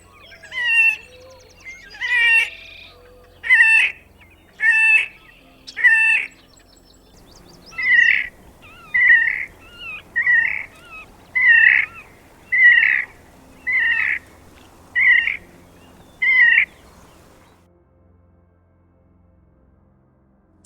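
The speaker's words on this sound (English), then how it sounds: "Horned grebe, Podicepsoritis." A series of about thirteen sharp, evenly spaced calls from a horned grebe on a Canadian lake, loud and close, starting as ragged chatter and settling into a regular repeated rhythm before fading to silence.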